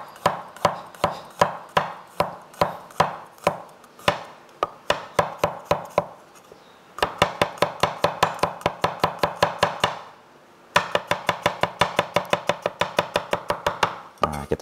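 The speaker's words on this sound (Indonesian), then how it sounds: "Nah, kita chop aja bebas." A knife chops garlic cloves on a cutting board in a steady, rapid series of sharp close knocks, breaking off briefly twice before resuming. No voices are heard.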